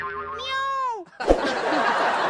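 A voice imitates a cat's meow with a rising and falling whine, followed by a sharp knock and a burst of laughter.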